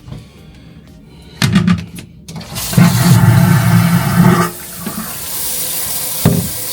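A toilet flushes in a cruise ship balcony cabin bathroom aboard the Carnival Pride, with a loud rushing, gurgling surge of water close by, a few clunks, then refilling water running on steadily.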